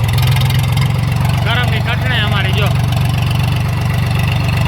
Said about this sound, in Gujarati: અને ટ્રેક્ટર ભરીને જાય છે.